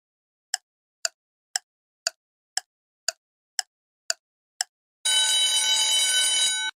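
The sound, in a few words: quiz countdown timer alarm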